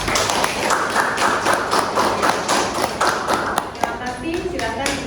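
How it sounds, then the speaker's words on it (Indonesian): A room of students claps for a presenting group: sustained, lively applause with rhythmic taps and thumps, fairly loud, while a voice speaks over it and the clapping thins out toward the end. "Aplaus untuk kelompok 2."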